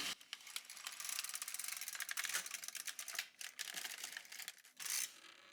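An LK150 knitting machine carriage slides across a row of needles, making a rapid, close, ratcheting clatter of dense clicks that runs for a few seconds with brief pauses and a final burst.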